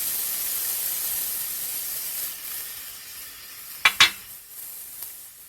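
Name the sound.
onion sizzling in hot peanut oil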